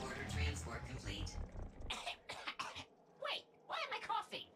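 A cat character in the Gori: Cuddly Carnage video game lets out a quick run of raspy coughs. Muffled game sounds play beneath, and a voice follows.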